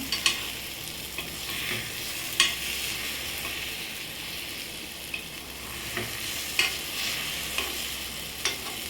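Egg kuzhi paniyaram fry in a paniyaram pan and are turned one by one. A steady close sizzle runs throughout, punctuated by periodic sharp clicks and scrapes of the utensil against the metal.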